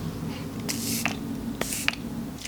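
Short hissing bursts of Cover FX Illuminating Setting Spray misted over a finished makeup look, two or three quick spritzes, close and soft, over a low background hum.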